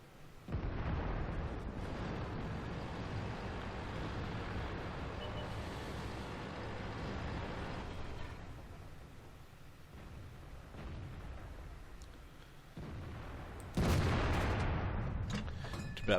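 Heavy, sustained booming of artillery shells and tank gunfire in the video game World of Tanks, loud and continuous throughout with a sharper, stronger burst of explosions near the end.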